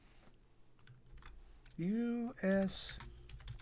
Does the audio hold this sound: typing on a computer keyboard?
yes